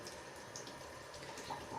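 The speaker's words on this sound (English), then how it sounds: "as I have this piece of Moldavite running under the water, I start to brush it" Moldavite stone scrubbed with a brush under a running tap, a steady close hiss of flowing water with faint brushing texture throughout.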